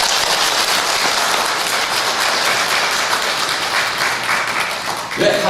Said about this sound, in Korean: 여러분 강의 잘하라고 박수 좀 보내주세요